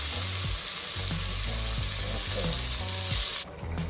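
Stew beef frying in olive oil in a pan, with a steady close sizzle and crackle and light stirring clanks, and a brief splash of water at the end.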